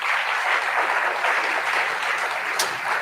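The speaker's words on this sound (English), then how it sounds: "Please give them a round of applause." Audience applause at a college fall convocation, a steady dense clatter of many hands filling a hall, sustained evenly for a few seconds without speech.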